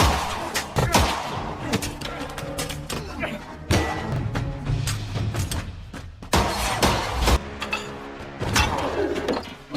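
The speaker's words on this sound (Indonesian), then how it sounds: "manajer Hong yang berada di belakang Kang In menodongkan pistol dan menembaknya." A pistol shot in a Korean action film, fired from behind at close range amid a dense, loud mix of sharp bangs, impacts and crowd noise across the scene.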